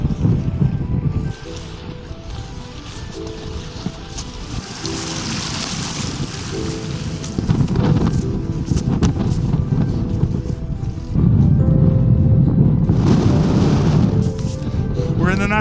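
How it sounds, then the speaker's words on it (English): Strong wind gusts over a lake in a Norwegian national park, roaring loud and close into the microphone in surging waves, with buffeting bursts and no talk over it. "The wind is so strong right now that it's literally pulling almost like raindrops out of the lake and throwing them straight at me."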